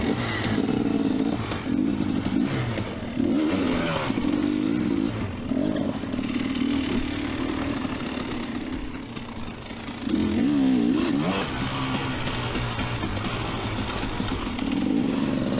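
A 2019 KTM 250xc dirt bike engine revs repeatedly on a cold November trail ride at Johns Peak OHV, a loud, close two-stroke drone rising and falling in pulses throughout.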